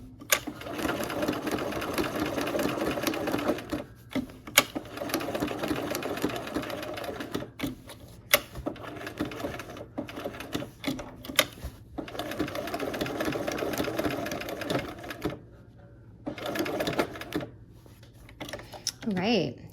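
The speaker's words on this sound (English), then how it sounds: "I'm gonna go ahead and stitch, go as slow as you need to" Sewing machine stitching a quilt runs in steady bursts of rapid mechanical whirring, stopping and restarting several times, with someone talking softly in the pauses and over the motor.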